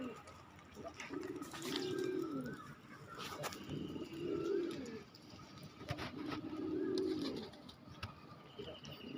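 Pigeons coo softly in three repeated rolling phrases at an even pace, close but quiet, with faint distant background noise between the calls.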